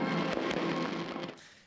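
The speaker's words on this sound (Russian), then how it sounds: "Завершился праздник на площади грандиозным салютом." A grand fireworks salute closing a city square celebration, heard as a dense, continuous crackling roar with sharp bursts, loud and sustained before tapering off slightly at the end.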